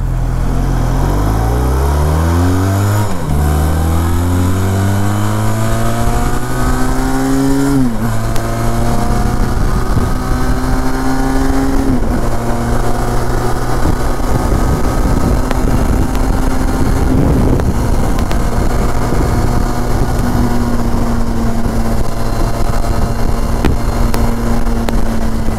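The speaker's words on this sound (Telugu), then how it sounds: "సో ఇప్పుడు ఒకసారి మనం ఫస్ట్ గేర్ నుంచి అసలు టార్క్ పవర్ అనేది ఎలా ఉందనేది చూద్దాం" A Benelli TRK 502 motorcycle pulls hard from first gear, its engine note climbing steeply through several upshifts with brief dips between gears, then settling into a loud, steady drone with rushing wind noise.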